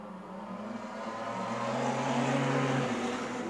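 Wingless sprint cars racing around a dirt oval during a heat race, engines droning and rising in pitch as the pack accelerates, steady and fairly close with no talk.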